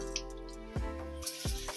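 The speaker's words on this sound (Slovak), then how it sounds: "Premieme si ju v studenej vode, kľudne aj 2-3 krát, aby sa mi toľko nelepila." Cooked white round-grain rice being rinsed in cold water: a short run of wet drips and small splashes with a couple of sharper sloshes, close and fairly quiet, with no voices.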